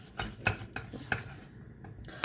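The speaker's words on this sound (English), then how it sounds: "I use a whisk because it's a lot easier than using a wooden spoon" A whisk stirring a thick paste in a pot for Greek pastitsio, making several close metallic taps and scrapes in an uneven rhythm over a quiet background.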